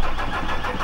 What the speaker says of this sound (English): we're gonna start it up, see what it sounds like